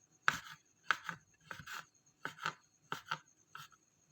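A knife saws through old, dry bread into small pieces, making close, scratchy strokes that come in quick pairs and bursts, about a dozen rasping cuts at an irregular rhythm, alone and fairly quiet.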